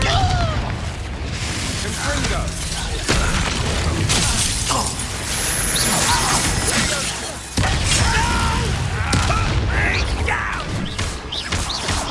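Confringo blasting-spell explosions in Hogwarts Legacy, loud and dense, with sharp crashing blasts at two points over a constant roar of game effects and combat noise.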